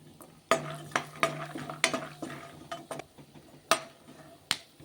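Peanuts roasting in a dry pan while curry leaves are removed, with repeated sharp scraping and stirring clatters, a dozen or so irregular hits against a low steady sizzle, close and alone.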